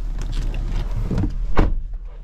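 Electric sunroof motor on a 2013 Acura MDX SH-AWD, heard close up as a short whirring run with a brief louder mechanical clunk near the end, with no voices.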